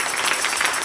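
A church congregation gives a dense, continuous burst of applause during a Spanish-language Bible study service; the clapping is close and steady throughout the short moment, with no one speaking over it.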